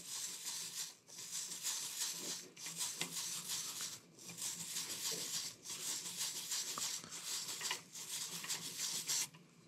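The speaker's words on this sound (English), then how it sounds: "grab tire brush and gently scrub it across the face of the tire" A tire brush scrubs across the face of an RC tire in rhythmic rasping strokes, close and fairly quiet, repeating with short pauses between passes.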